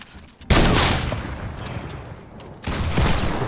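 Two heavy shotgun blasts in a video game, close and loud, each one a sharp crack with a booming tail, the second arriving about two seconds after the first.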